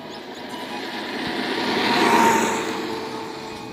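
A petrol scooter converted to electric on a short test drive, giving a faint rising and falling hum and whine over road and wind noise that swells near the middle, with no voices.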